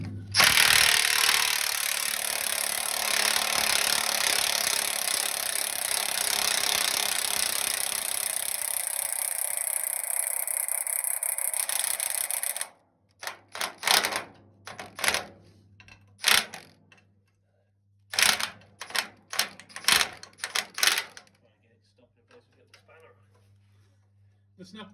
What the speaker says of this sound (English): The snap-on gun definitely generates more noise than torque.